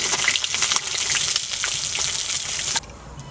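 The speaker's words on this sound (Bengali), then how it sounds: "দেখুন কি সুন্দর ভাজা হয়েছে মাছটা" Pangas fish frying in hot oil, a loud, dense crackling sizzle held close for a few seconds before it drops off sharply to a quieter hiss.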